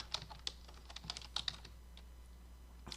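Quick taps on a computer keyboard while a cell name is entered in a spreadsheet during a computer-skills exam exercise: a few clustered clicks, close and fairly quiet, then a pause and a final keystroke, with no talking.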